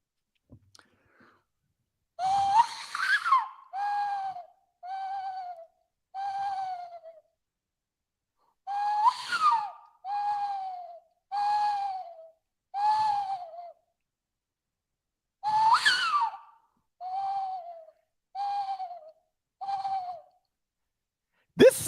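A man imitates owl hoots with his voice, making repeated breathy hooting calls in three rhythmic series of about five hoots each, each series opening with a rising cry, separated by silence.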